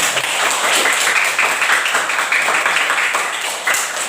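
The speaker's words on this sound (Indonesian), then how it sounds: "Ya, tepuk tangan." Steady, dense clapping from a class of students, a continuous rattle of many hands that holds at an even level throughout.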